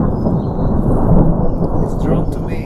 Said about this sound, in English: Thunderstorms usually avoid me.